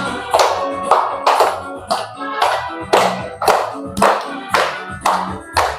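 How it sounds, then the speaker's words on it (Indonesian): Children in a classroom clap their hands together in a steady, rhythmic beat, about ten loud claps spaced evenly, each ringing briefly in the room, with no talking between them. "Semuanya tepuk tangan"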